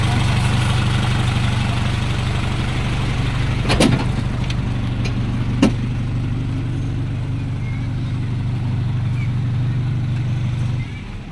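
An Isuzu Elf truck with a fully manual engine idles nearby, a steady low rumble that holds for about eleven seconds, with a couple of brief sharp knocks in the middle and people talking over it.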